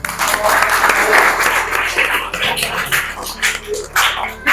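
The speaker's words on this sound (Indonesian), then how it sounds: "Muazzari Alfa Fitroin, tepuk tangan" A classroom full of people claps steadily for several seconds, the applause loud and close with some voices mixed in.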